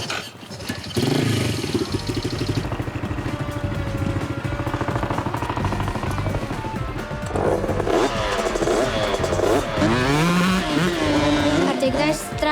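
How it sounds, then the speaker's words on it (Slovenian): A motocross motorcycle engine warms up, loud and close, idling before it revs in rising and falling sweeps over the later seconds, with voices now and then. "V takem primeru se mora motor vedno prej segreti"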